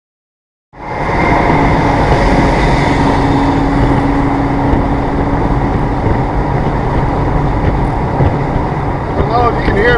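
A 2017 Corvette Stingray cruising steadily, with a continuous broadband engine and road drone and wind rush, loud and close from inside the car.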